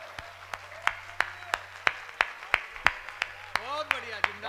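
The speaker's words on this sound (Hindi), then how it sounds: "एक एक आदमी की तालियां देखना चाहता हूं" Steady, evenly spaced hand claps at a Hindi hasya kavi sammelan comic poetry recital, about a dozen sharp strikes in a regular beat. A voice starts talking over the final claps.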